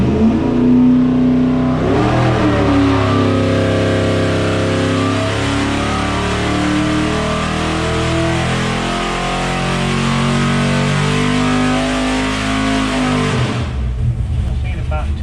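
A 600+ hp 505 cubic-inch big block Mopar V8 with an M1 tunnel ram on a dyno, a loud sustained roar holding at high revs for about twelve seconds before cutting off abruptly.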